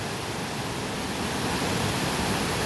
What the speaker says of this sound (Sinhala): පුංචි පුංචි දේ ධාරාවල් එකතු වෙලා ලස්සනට කඩාන වැටෙන කිරිම කිරිපාට මාරම ලස්සනයි.